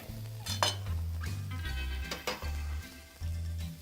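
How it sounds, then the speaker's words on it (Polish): Quartered shallots frying in the same pan used earlier for meat, a steady sizzle with stirring scrapes and occasional utensil clinks against the pan. "Na tej samej patelni, na której smażyłem mięso, obsmażę szalotkę."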